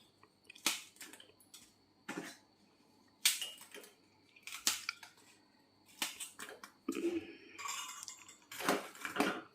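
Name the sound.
crushing sugar-free rusks into oats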